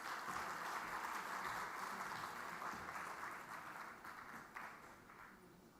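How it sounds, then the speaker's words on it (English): Applause from a conference audience for panelists at an opening ceremony, a soft, distant wash of clapping that gradually thins and fades toward the end. "Let's welcome them once again with a big round of applause as well."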